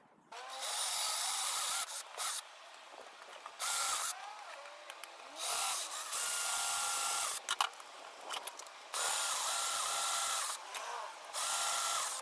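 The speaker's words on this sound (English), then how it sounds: "So the idea now is to drill holes in each one of these." Power drill boring holes through wooden slats for a DIY Christmas star, in several separate bursts of a steady, fairly close whine broken by short pauses, with no talking.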